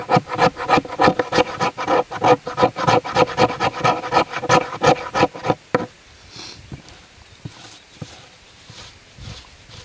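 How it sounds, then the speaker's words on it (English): The 90-degree spine of a knife scrapes fine tinder material in a quick, regular series of close, loud rasping strokes, which stop partway through and leave only faint scratchy handling noise. "it can also be used as a cabinet scraper for processing finer tenders and materials"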